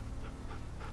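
A dog in The Walking Dead Season 2 video game pants softly in a quick, rhythmic pattern, faint beneath a steady background hum with no talking.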